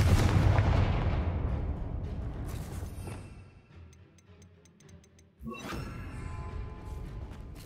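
A burst of the Confringo fire spell in Hogwarts Legacy explodes with a loud boom and roar that fades into quiet ticking, then a second sharp blast erupts and rumbles on.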